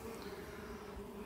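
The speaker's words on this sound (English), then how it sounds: "we can see already there are quite a bit of bees in there" Honey bees swarming inside a swarm trap make a continuous low, steady buzzing hum, faint and close, with no talking over it.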